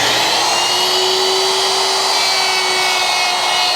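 A 1/4-inch shank router bit mills pockets into a poplar drawer box for a cherry cabinet, producing a loud, close, continuous high-pitched whine that holds steady without pause.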